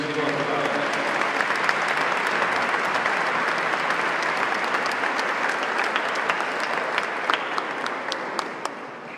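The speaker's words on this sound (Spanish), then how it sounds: "se merece también nuestro agradecimiento y nuestro aplauso" Sustained applause from a congregation gathered at a church procession entrance for Jesús Nazareno de la Paz and the Virgen de Dolores, steady and dense for about nine seconds, with some voices mixed in underneath.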